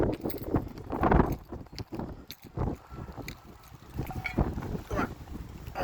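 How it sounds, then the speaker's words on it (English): Gusty wind, about 15 mph constant with 40 to 50 mph gusts, buffets the microphone in irregular low rumbling bursts, rising and falling loudly throughout, with no voices present. "Got some pretty good wind here, about 15 miles an hour constant, about 40 to 50 mile an hour gusts"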